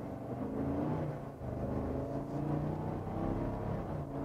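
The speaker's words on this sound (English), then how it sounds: "Wow, the V8 sounds so good." The V8 engine of a 2021 Cadillac Escalade three-row SUV, heard from the cabin as a steady, moderately loud, rumbling hum under acceleration, with no voices.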